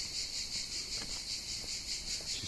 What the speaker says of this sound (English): there's them crickets again in the background